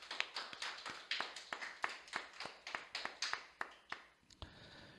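Sunday worship in a Korean church, where the congregation claps in steady unison: about a dozen crisp, evenly spaced claps in a regular rhythm, then a short trailing pause and a soft thump.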